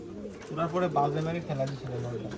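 Giribaj pigeons at a pigeon farm giving low, rounded coos close by in a short burst of several calls.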